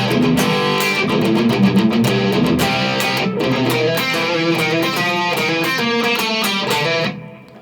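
Electric guitar plays the first chorus line of a song, a busy rhythmic strummed figure of chords and choppy accents, steady and loud throughout, alone, ending with a quick fade.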